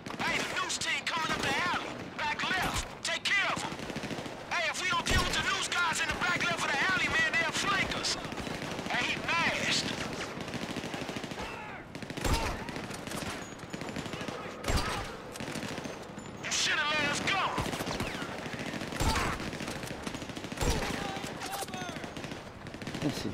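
Rapid bursts of automatic gunfire and single shots crackle through a Grand Theft Auto V firefight during an armored van attack, dense and loud, interleaved with someone talking over the shooting.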